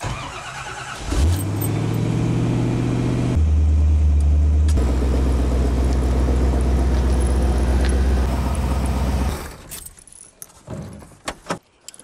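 A 1929 Ford hot rod's engine catches and settles into a loud, steady idle with a deep rumble, running for several seconds before cutting off, followed by faint clicks and handling noises.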